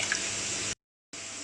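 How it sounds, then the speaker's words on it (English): Water runs steadily from a tap into a slow cooker, a broad hiss that cuts off briefly and then resumes, with no talking. "I've just added 2 pints of water into my slow cooker"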